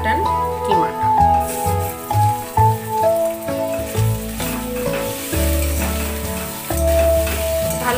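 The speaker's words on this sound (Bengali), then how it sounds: "কিমাটা ভালো করে নেড়ে চেড়ে পেঁয়াজের সঙ্গে মিশিয়ে নেব" Mutton mince sizzles with fried onion in an oily pan as it is stirred and mixed, with a continuous close crackle and spatula scrapes under background music.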